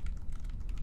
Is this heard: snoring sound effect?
no